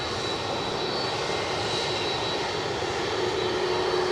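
A Brussels Airlines plane on final approach to Edinburgh Airport, a steady, distant jet engine roar with a faint high whine held throughout.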